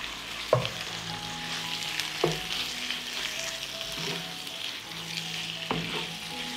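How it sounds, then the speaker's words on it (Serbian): Chicken livers sizzle in a pan with softened fried onion, a steady hiss of frying punctuated by a few distinct utensil knocks and stirring scrapes at irregular intervals. "Na proprženi luk dodajem 500 g pileće džigerice bez srca."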